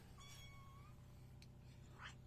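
A lonely pet cat left alone in a room meows, one drawn-out call early on and a second shorter, fainter one near the end, over steady low background hum.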